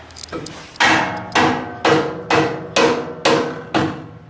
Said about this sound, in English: Just grab your dead blow hammer